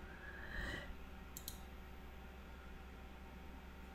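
Computer mouse clicks, a few quick light clicks close by over a faint steady room hiss, with no talking.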